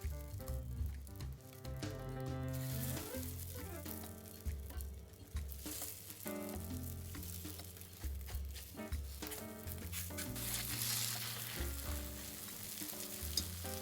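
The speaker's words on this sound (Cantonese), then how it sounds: "我哋落腸粉啦，係啦，慢慢灑落去。" Cheung fun rice noodle rolls dropped into a hot wok after scrambled egg for XO sauce soy-sauce fried noodles, a loud crackling sizzle with rhythmic tossing and spatula scrapes throughout.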